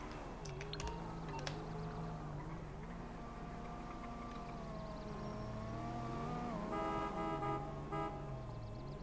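A car driving in the video game GTA 5 Online gives a steady engine drone that rises and falls in pitch, with tonal horn-like toots near the end, loud and continuous with no talking.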